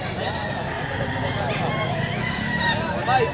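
A Lemon Sweater breed rooster, about two years old, crows at close range in a single drawn-out call amid background chatter and noise.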